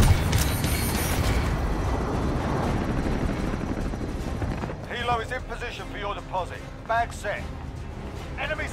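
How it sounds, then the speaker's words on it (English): A helicopter in Call of Duty: Modern Warfare flies close with loud rotor roar, then fades beneath game chatter and scattered radio voices. "Helo is inbound for deposit."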